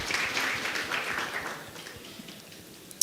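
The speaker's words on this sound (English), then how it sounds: "Please give a round of applause." A seminar audience claps, the applause moderate and somewhat distant at first, then thinning and fading away, with a single sharp clap close by at the very end.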